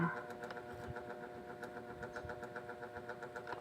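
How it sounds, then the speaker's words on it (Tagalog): A noisy electric pan runs with a steady mechanical hum and rattle, holding an even loudness throughout with faint background sounds and no clear speech. "maingay yung electric pan, guys."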